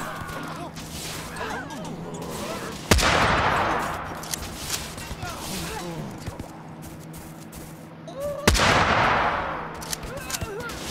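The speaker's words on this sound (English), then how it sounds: "The moment they start firing." Gunfire crackles through a Totally Accurate Battle Simulator battle, with two loud blasts ringing out and decaying over a busy background of scattered shots, while someone talks over the action.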